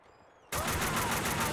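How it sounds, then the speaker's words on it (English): Sudden burst of rapid automatic gunfire from the video game Max Payne 2: The Fall of Max Payne, starting after a near-silent moment and continuing loud and dense to the end, alone without talk. "That dude just walked into my fucking gunfire"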